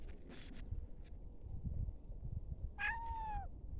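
A single short cat meow rises and falls near the end, heard outdoors in snow by a house over faint wind and rustling.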